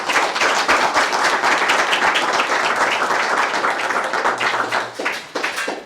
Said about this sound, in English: Now let's go give them all a round of applause.